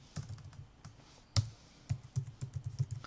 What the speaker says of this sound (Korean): 한국말로 타이핑 하셔도 돼요.